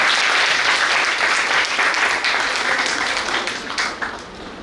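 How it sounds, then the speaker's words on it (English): Loud, dense round of applause from a seminar audience at a Government Women's Polytechnic College welcoming invited guests, sustained clapping that thins slightly toward the end. "I would like to request everyone to give a huge round of applause to welcome them."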